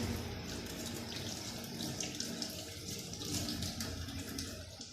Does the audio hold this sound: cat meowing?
no